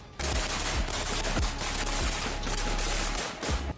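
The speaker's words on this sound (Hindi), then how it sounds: "ठिकाने के करीब पहुंचते ही यूक्रेन के जवानों ने ताबड़तोड़ फायरिंग शुरू कर दी" Heavy exchange of gunfire between Ukrainian and Russian soldiers in fields near enemy positions in the Kharkiv region: dense, continuous automatic bursts with rapid shots piling over each other, loud and sustained throughout.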